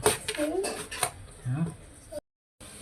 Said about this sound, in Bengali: এই যে বেগুন কাটতেছে বেগুন চাক চাক করে ভাজি